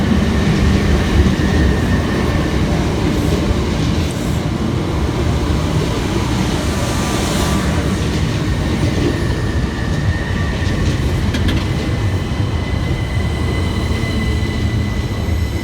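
Southeastern passenger trains pull into Waterloo East station with a loud, continuous rumble of wheels on rails, rhythmic clatter and occasional faint squeals, close by and without speech.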